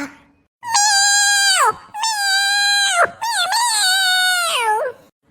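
A cartoon cat meows in three long, drawn-out, wailing cries, loud and close, sliding down in pitch at each end. A voice actor imitates the sound.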